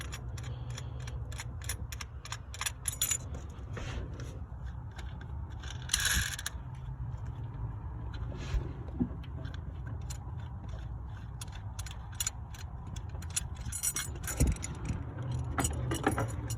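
Wrench work on fuel lines of a Chevy 5.3 GDI engine, with scattered metallic clicks, scrapes and jangling tool taps, faint and close against a low steady hum.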